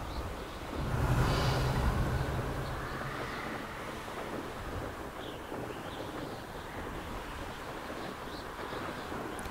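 Wind blowing in the video game Hogwarts Legacy, a steady broadband rush with a slightly louder gust near the start, continuous throughout with no voices.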